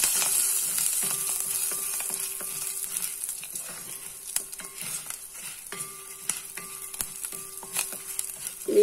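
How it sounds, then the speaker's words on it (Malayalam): Dried red chillies and curry leaves crackle and sizzle in hot oil in a pan, a steady frying hiss with small pops and occasional stirring clicks, close and continuous without talk. "ഇതും കൂടി ഇട്ട് ഒന്നും കൂടെ ഒന്ന് വറുത്ത് നിർത്തുക."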